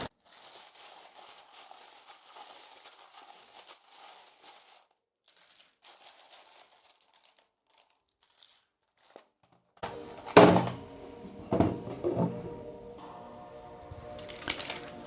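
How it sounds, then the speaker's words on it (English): Letter tiles being shuffled for a tarot-style reading, a soft clattering rustle at first, then a pause and a burst of louder clacks and knocks of tiles tumbling together near the end, with no talk. "Now I will shuffle some letters for you."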